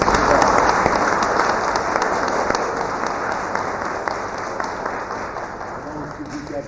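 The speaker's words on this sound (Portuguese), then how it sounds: "Bem, a salva de palmas." An audience at a special Driver's Day company event gives a round of applause, a dense steady wash of clapping that slowly tapers, with some voices underneath.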